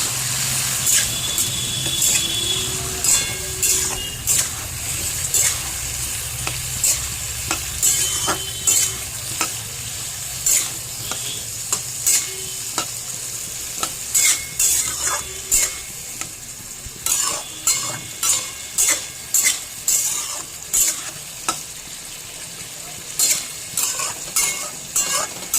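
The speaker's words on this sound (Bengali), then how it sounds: "এটাকে কষিয়ে নেবো।" Potatoes stir-fried with ground poppy seed paste for aloo posto, with a continuous low sizzle and frequent sharp scrapes and clinks of a spatula against the pan, irregular but steady over a long stretch, near and clear.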